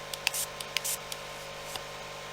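Several short hissing puffs of 91% alcohol from a hand spray bottle, close and quiet, in a few separate bursts against a faint background hiss.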